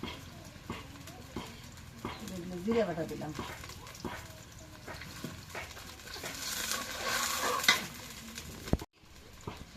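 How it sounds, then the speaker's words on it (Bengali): Garlic, onion and cumin paste goes into hot oil already frying chilli and onion, giving an uneven crackling sizzle with repeated stirring clatter and knocks against the pan, growing brighter toward the end; a voice is briefly heard. "এখন তেলে ভাজা আছে মরিচ পেঁয়াজ এখন রসুন বাটা পেঁয়াজ বাটা জিরে বাটা সব কিছু বাটা এখন দিই"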